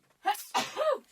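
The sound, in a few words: sneeze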